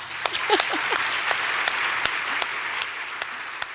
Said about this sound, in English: I think that actually deserves a round of applause right there